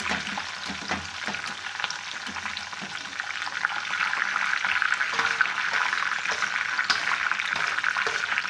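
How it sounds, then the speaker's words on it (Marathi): Mint leaves crackle and sizzle in hot oil for a panipuri-flavoured puffed rice chivda, a steady dense frying hiss that swells louder midway with occasional stirring scrapes, no voices. "पुदिना पण तळून घेणार."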